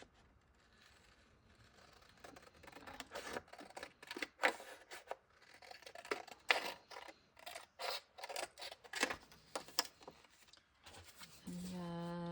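Scissors snip through paper for a junk journal envelope craft, a series of irregular, close, crisp cuts and rustles, ending with a brief tone.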